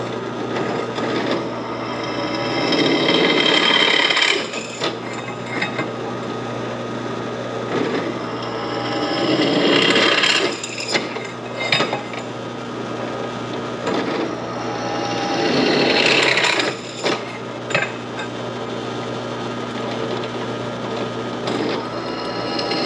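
Power drill whirring through a metal tube in several long bursts, loud and close, with brief pauses and spin-downs between each hole.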